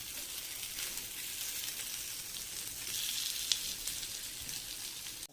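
Potato bites frying in ghee on a hot griddle give a steady, close, moderately loud sizzle with fine crackle throughout, one brief sharper pop near the end, and no talking.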